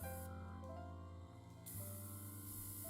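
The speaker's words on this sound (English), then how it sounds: "A nice even atomized spray." A continuous hissing spray of water from an airbrush runs throughout, steady and broadband, with a faint mechanical hum and tonal whine beneath it.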